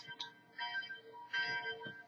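A bell rings with a soft, sustained, layered tone, its strikes blending into a gentle continuous shimmer at low volume, heard alone without speech.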